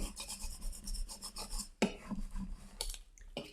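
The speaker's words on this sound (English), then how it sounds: "Again, burnishing." Rubbing strokes of a burnishing tool pressing vinyl onto an Easter egg hunt sign, a steady rasping scrape repeated in quick back-and-forth passes, close and fairly quiet, with a few sharper scuffs near the end.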